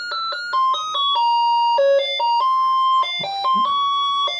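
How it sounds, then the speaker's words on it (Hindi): An Acme water level controller plays its musical alarm after the pump shuts off, a loud, clear electronic tune of stepped beeping notes that runs steadily with no other sounds. "पंप ऑफ हो जाने पे ये आपको म्यूजिकल अलार्म भी देगा।"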